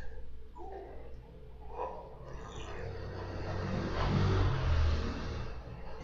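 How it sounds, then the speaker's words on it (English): Cars passing along a street outside, a broad steady traffic rumble that swells louder toward the end, with a faint bit of background voice early on. "A lot of cars passing by. Really noisy."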